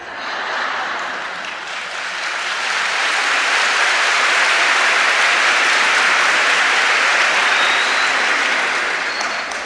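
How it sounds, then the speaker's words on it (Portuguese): A large convention audience at a charismatic healing gathering claps steadily, swelling in volume after the first seconds into a loud, sustained roar of applause that holds without any speech over it. "you're clapping without waiting to listen what I'm going to say"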